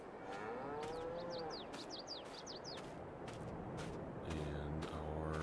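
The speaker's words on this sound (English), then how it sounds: "We got our cows in the pasture." Cattle mooing in a farm pasture in Richlands, Ohio, a long low call at a middle distance, with birds chirping in quick bursts over steady outdoor ambience and a deeper moo rising near the end.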